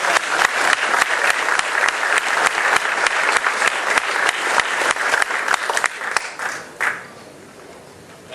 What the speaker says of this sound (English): let's give a round of applause to Dave and Anthony